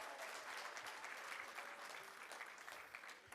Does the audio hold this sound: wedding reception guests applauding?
yes